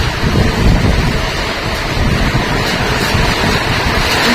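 The year's first rain falls steadily as a dense, loud, continuous wash with a low rumble that fits thunder, and no one speaks.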